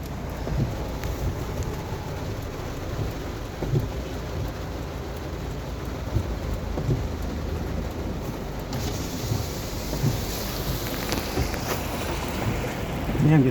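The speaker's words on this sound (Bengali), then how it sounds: "বৃষ্টি হয়েছে" Heavy storm rain during a Baishakh (spring) storm pours steadily, a dense broadband wash that holds constant and swells slightly louder toward the end, with no other clear sounds standing out.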